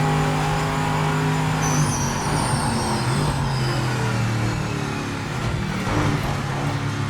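A race car in Project Motor Racing drives hard through a chicane under heavy braking, its engine a steady loud drone with shifting revs and tire noise, with no voices over it.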